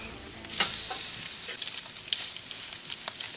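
Meat searing on a Sear EV3 barbecue grill gives a steady, close sizzling hiss, dotted with sharp crackles and pops throughout, with no talking.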